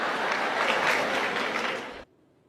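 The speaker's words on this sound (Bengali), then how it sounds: "হাততালি থামাও।" An audience at a lecture claps in dense, steady applause for about two seconds before it stops abruptly, leaving near silence.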